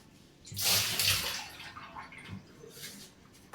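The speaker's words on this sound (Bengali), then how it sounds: "দেখি জলটা মনে হয় একটু বেশি হয়েছে, আমি একটু জলটা ফেলে দিচ্ছি" Water is poured out of a cooking pot in a quick splashing gush that tapers into a trickle and a few drips, close by, with no talking.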